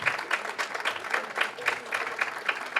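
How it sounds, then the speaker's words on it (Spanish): An audience at a human-rights journalism awards ceremony claps steadily in a moderate, even wave of applause. "Un aplauso, por favor."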